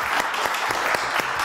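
A French television studio audience claps, a dense, steady round of applause with sharp individual hand claps standing out throughout.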